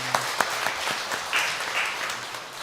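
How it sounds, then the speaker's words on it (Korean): Church congregation briefly claps to welcome a newcomer during Sunday service, a sparse, fairly soft scattering of claps in a reverberant room that tapers off quickly. "우리 박수로 한번 환영하겠습니다"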